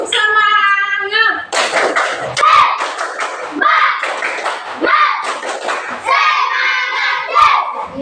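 Schoolchildren in a classroom shout a rhythmic tepuk semangat clapping chant, loud and close, with group voices, claps and thumps in a fast pattern.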